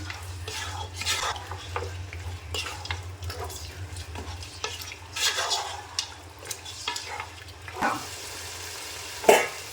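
Mutton being stirred through frying masala and melted onions in a pan for a coconut-milk mutton roast: continuous scraping and stirring over a soft sizzle, with occasional clinks of the spoon against the pan.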